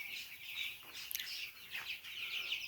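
Faint clucking and chirping of chickens inside a poultry shed on fresh litter, a steady low chatter of many birds with no voices over it.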